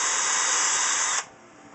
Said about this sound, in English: I pre-drill the holes because it is a hard maple.